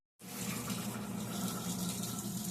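Whirlpool washing machine filling with water, a steady close gush of inflowing water that starts abruptly and runs on evenly, with no talk.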